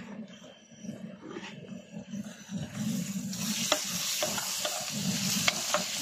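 Saag fries with mixed masala while a utensil stirs it in a pan. Soft scraping strokes come first, then a louder, steady sizzle with rhythmic stirring scrapes and occasional sharp clicks.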